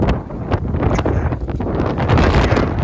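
Strong wind gusting hard against a microphone outdoors beside a van at a stone-laying site, steady loud buffeting with rustling and no voices.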